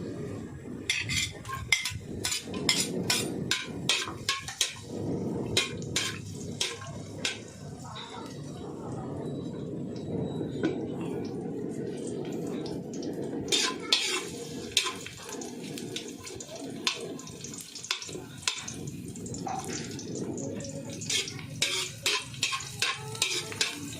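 Garlic and onion sizzle and fry in a hot pan for pansit bato, with stirring scrapes and clinks running steadily throughout and scattered talk over the cooking.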